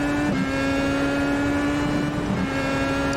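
A race car engine in the iRacing sim at Laguna Seca drones at a steady pitch, with a brief dip and recovery from each quick gear shift, loud and continuous with no talking.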